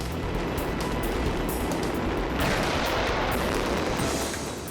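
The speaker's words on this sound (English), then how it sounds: "the bridge will literally burst into flames as wave after wave of low and medium fireworks are set" Wave after wave of low and medium fireworks set off from a bridge burst in a dense, continuous crackling barrage, loud and sustained throughout with no voices.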